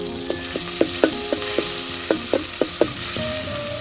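Onion-garlic and coriander-cumin paste fries in a pan for an okra and fish dish. A metal spatula strikes and scrapes the pan in a quick series of ringing clinks over a steady sizzle, close and without speech.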